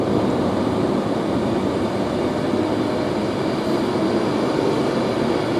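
A Class 390 electric train, unit 390-119, passes at Nuneaton on the West Coast Main Line, a loud, steady, close roar that holds evenly throughout with no letup.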